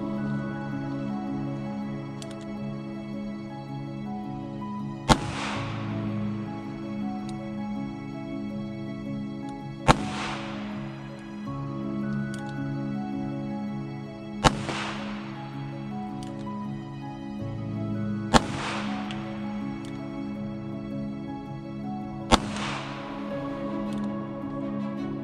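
A Charter Arms Pitbull .380 revolver fired outdoors, five sharp loud shots spaced about every five seconds, each a sudden crack with a ringing tail, over a steady background hum.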